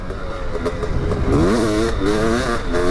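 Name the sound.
500cc two-stroke motocross bike engine revving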